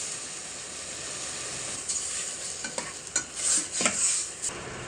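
Chicken sautéed in a pan with onion, ginger and fish sauce, a loud steady sizzle with bursts of hissing and scraping as the pieces are stirred, close and without talk.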